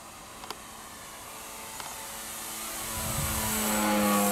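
A small RC model plane engine, a Fieseler Fi156 Storch balsa model with a 1600mm wingspan, drones and grows steadily louder as it approaches, with a few faint clicks early on.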